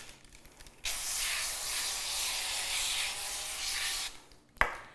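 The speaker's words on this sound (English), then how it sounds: "I'm gonna grease the parchment paper with this avocado oil cooking spray" Avocado oil cooking spray hisses onto parchment paper in one long continuous burst of about three seconds, close and clear, followed by a short sharp knock as the can is set down.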